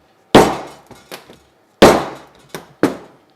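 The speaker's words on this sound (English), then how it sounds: "we can then either open them up with a hole punch like this" A hand hole punch squeezed on a drilled hole in a VW Beetle body panel, giving two loud sharp metallic snaps, each followed by smaller clicks and clatters, close and alone in a quiet workshop.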